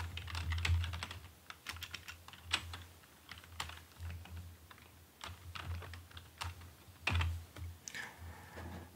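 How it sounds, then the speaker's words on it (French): Quick, close keystrokes clatter on a computer keyboard as an email address is typed, arriving in short bursts with small pauses between them. "Donc là, je vais écrire exemple, mon email."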